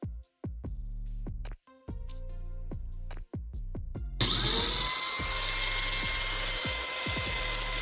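An angle grinder smoothing the rough edges of a metal piece made from an old spray paint can, starting with intermittent tonal bursts, then a steady, loud, close grinding hiss and whine that continues to the end.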